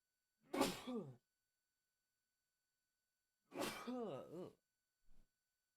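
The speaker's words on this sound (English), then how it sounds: "Hold on, I'm gonna sneeze." Two sharp, breathy bursts a few seconds apart, like sneezes, close and fairly quiet, followed by a short faint sound, otherwise silence.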